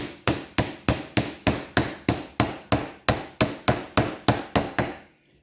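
Socket struck with a hammer to drive a bearing race home on a CompAir mobile compressor chassis, about fifteen sharp metallic blows in even rhythm, close and loud, with no talking.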